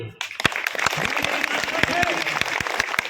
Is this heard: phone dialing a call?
no